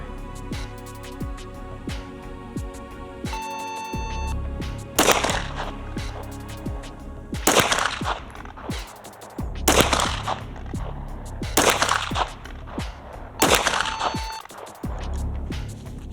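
Repeated shots from a stock Glock pistol on an outdoor firing line, sharp cracks in uneven strings, some his own and others from neighbouring shooters, loud and close over steady range background noise.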